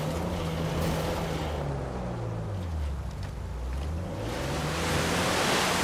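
Ocean surf in the video game Uncharted 4, Madagascar setting: a broad, steady wash of crashing water that swells louder toward the end, continuous and close, with no talking over it.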